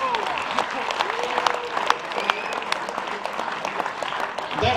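Crowd applause after a lot is sold at a wildlife fundraiser auction, steady clapping from a sizable audience with scattered sharp claps, some voices and chatter mixed in underneath.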